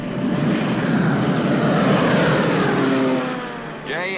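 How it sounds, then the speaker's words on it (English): Allied propeller reconnaissance aircraft flying overhead during wartime, a loud sustained engine drone that slowly shifts in pitch as it passes and fades, ending with a brief whine. "the Allied reconnaissance planes scoured the European continent"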